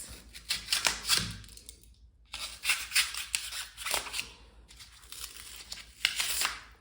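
A blade cutting out big chunks of failed drywall, with crisp scraping, tearing and crumbling bursts in three clusters split by short silences, close by.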